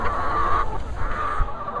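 Backyard chickens cluck near a nest box on a small farm, a close, continuous flock murmur with short repeated clucks over low background rumble.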